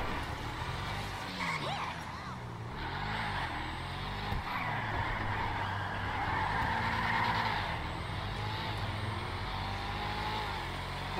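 A supercar in GTA 5 Online revs steadily with its engine droning throughout, joined by a tire skid and squeal, loud and close for the whole stretch.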